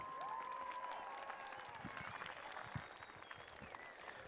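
A high school graduation audience gives a sustained round of applause, a dense wash of clapping with a few distant cheers and whistles, heard from a distance in a large venue.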